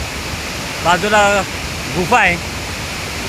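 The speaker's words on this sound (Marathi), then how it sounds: "अथांग असा हा धबधबा आहे" Steady roar of the Savatkada waterfall, a vast fall with a cave hidden beside it, heard as a continuous broadband rush from nearby while someone speaks briefly over it.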